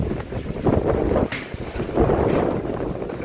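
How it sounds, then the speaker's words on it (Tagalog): Strong, gusty wind in the aftermath of Typhoon Tino, roaring and buffeting against the microphone in heavy surges with a brief lull in between, no voices heard. "Kusog kaya hangin niya guys."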